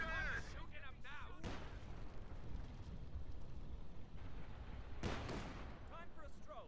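Gunfire in the video game Project Zomboid: two sharp, heavy shots a few seconds apart over a low rumbling backdrop, with voices talking before and after.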